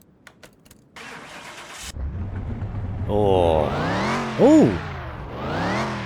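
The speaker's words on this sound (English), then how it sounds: "That supercharger whine is delicious." A Ford Mustang engine in Car Mechanic Simulator starts and revs, a high supercharger whine rising and falling over it as the revs climb, with a brief exclamation near the start.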